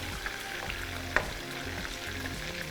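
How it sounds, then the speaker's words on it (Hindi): Chicken frying in a karahi-style pan gives a steady, close sizzle with light stirring clicks and one sharp tap, continuous throughout with no voices. "चिकन साथ साथ फ्राई हो रहा है और पक रहा है"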